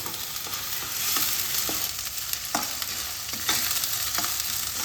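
Onion paste with ginger, garlic and green chilli fries in a pan for a Bengali katla fish kalia, a steady close sizzle broken by several scraping stirs of a spatula, with no talking.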